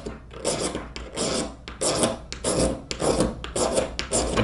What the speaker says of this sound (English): So what I'm doing now is I'm actually making some magnesium shavings.